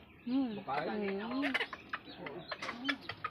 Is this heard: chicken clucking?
yes